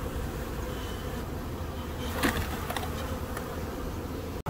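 A dense swarm of honey bees from a decades-old colony living inside a wall buzzes loudly and continuously up close as they are coaxed into a hive box, a steady droning hum with no talk.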